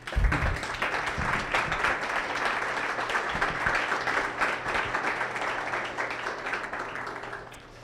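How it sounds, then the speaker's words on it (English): An audience applauds mentors at an accelerator demo day, a sustained even round of clapping from a crowd in a hall, lasting several seconds before fading. "we can give them a quick round of applause"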